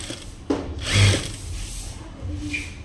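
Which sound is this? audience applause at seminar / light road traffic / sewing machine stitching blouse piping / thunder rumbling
sewing machine stitching blouse piping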